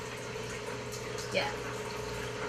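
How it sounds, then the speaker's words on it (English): EdgeStar portable countertop dishwasher mid-cycle, a steady low pump hum with water sloshing and one brief louder gush, while a person speaks briefly over it. "you will hear it takes some more water in, and then continue washing the dishes"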